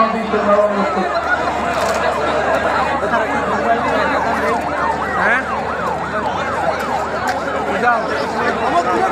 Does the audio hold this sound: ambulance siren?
yes